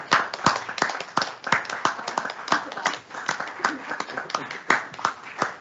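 Audience clapping at a climate infrastructure workshop session, a sparse group of hands slapping in quick irregular bursts, fairly close, with no talk over it.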